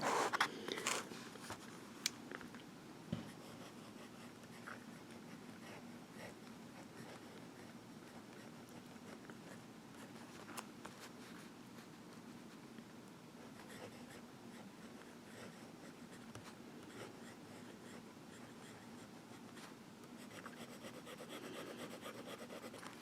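A Visconti Mirage fountain pen with a wet nib writes on Rhodia dot grid paper, giving a soft, continuous scratchy rubbing close to the mic, with small irregular strokes and no voice.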